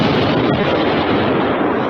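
A controlled detonation of a 2,200-pound WWII German bomb at a building site near Exeter University comes across as a loud, sustained rumbling roar with dense broadband noise and no voices.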